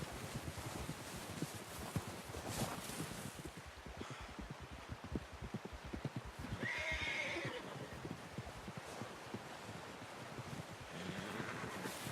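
A horse whinnies loudly in the middle in the video game Red Dead Redemption 2, set against a constant rush of wind or surf and soft hoof clops.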